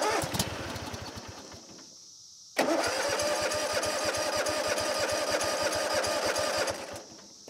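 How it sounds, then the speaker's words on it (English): A Kawasaki FH661V engine on a Cub Cadet RZT 50 lawn tractor cranks with rapid rhythmic pulses, catches briefly and runs for about four seconds, then sputters out and dies. "for a quick second it started up and then it almost immediately died out"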